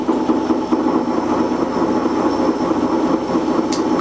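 A helicopter at full throttle in the Super Nintendo game Desert Strike, a steady, loud, droning engine rumble that holds constant without pause.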